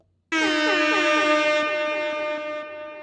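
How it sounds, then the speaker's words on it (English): A loud, blaring MLG air horn sound effect with a brassy buzz sounds in one sustained blast lasting nearly three seconds, dropping slightly in level near the end. "you can actually sound off an MLG air horn to get your chat pumped"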